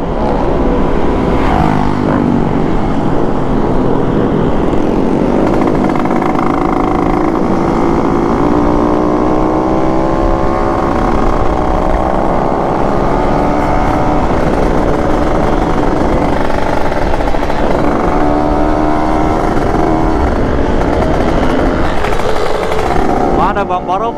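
Kawasaki ZX25R sport motorcycle engine revving hard and continuously, a loud, steady high-pitched whine with rising and falling pitch sweeps, recorded up close with some talk mixed underneath.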